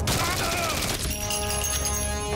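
Gunfire from the video game Code of Honor 2: Conspiracy Island, a dense, continuous fusillade of shots in a factory area, loud and close, with game noise layered over it.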